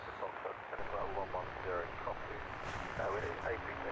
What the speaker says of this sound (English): This is Wizz Air 1302 heading to Warsaw.